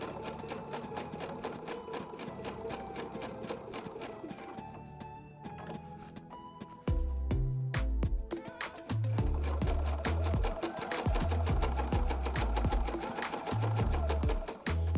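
A Pfaff Expression 720 electronic sewing machine runs steadily, its rapid stitching rhythm clear and close, with a louder, heavier low mechanical pulse kicking in for the second half.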